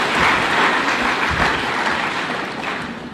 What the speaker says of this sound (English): let's give a round of applause for all our leaders who have spoken